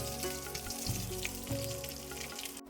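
Fish pieces fry in hot oil with a soft, even sizzle and scattered pops, close to the pan and fairly quiet, continuing throughout before a brief cut near the end.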